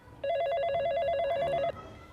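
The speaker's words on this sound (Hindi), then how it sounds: "फ़ोन आ ही गया उनका।" A telephone rings in one steady, bright electronic trill lasting about a second and a half, fairly loud and close against a quiet room, with no talking over it.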